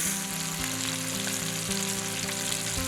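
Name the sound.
salmon fillet frying skin side down in olive oil in sauté pan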